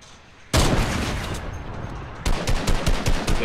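Heavy gunfire erupts in a video game as a loud, sustained burst, then grows into a faster stream of close rapid shots.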